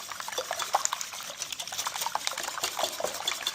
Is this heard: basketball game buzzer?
no